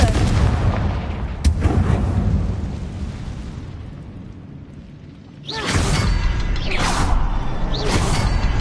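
The Confringo fire spell in Hogwarts Legacy hits with a sharp blast, then the noise dies down before a burst of repeated fiery explosions close by, loud and crackling.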